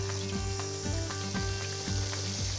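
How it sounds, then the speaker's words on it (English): Breaded chicken croutons fry in hot neutral oil over medium-high heat, giving a close, continuous crackling sizzle with a soft tonal hum and gentle regular pulses beneath it. "That's the sizzly sound I want to hear."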